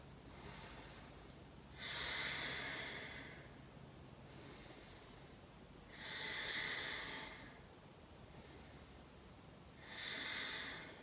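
Slow, deep breaths during an intermediate strength and stability yoga flow, three long airy exhales or inhales spaced a few seconds apart, close to the microphone and otherwise quiet.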